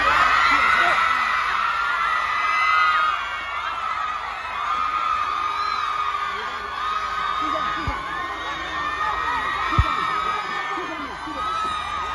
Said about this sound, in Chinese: 海外的粉丝在他下车的那一刻尖叫声就没有停过